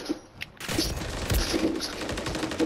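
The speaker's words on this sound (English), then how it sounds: "Oh, he shot me from the top." Rapid gunfire from a Call of Duty MW3 ranked Hardpoint match, dense bursts and shots rattling steadily throughout with a brief lull near the start, game sounds layered over the fire.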